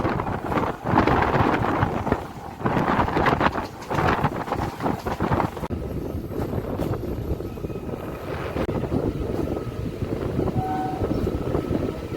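A local train on the Kolkata to Digha line rattles along loudly, wheels clattering in steady rhythm with wind buffeting the microphone and a brief horn-like tone later.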